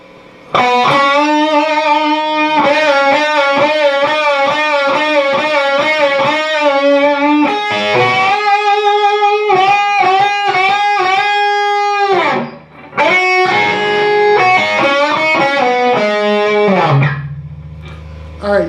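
Distorted electric guitar playing a guitar solo in fifth position, with rapid repeated picked notes, a 5-to-7 slide on the third string and vibrato-held bends. The notes sound loud and sustained, alone, with brief pauses near the end.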